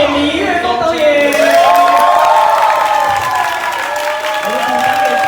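An audience at a film premiere press conference applauds and cheers loudly, a dense sustained wash of clapping with whoops and shouts that holds steady throughout and fades slightly toward the end.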